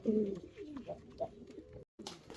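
Pigeons coo softly in low, rolling calls, several overlapping, with a brief silent gap before the cooing resumes.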